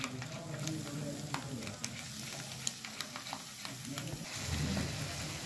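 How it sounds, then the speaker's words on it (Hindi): Curd is stirred into frying masala in a pan, a soft steady sizzle broken by light spoon scrapes and taps, heard close with no talk. "इसलिए इसको बराबर चलाते रहें।"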